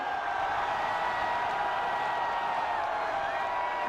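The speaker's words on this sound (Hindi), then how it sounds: "तालियों की गड़गड़ाहट पूरे देश तक जानी चाहिए।" Large outdoor crowd at a Noida airport foundation-stone event for Prime Minister Modi, a steady dense wash of applause and crowd noise with no breaks, distant and continuous throughout.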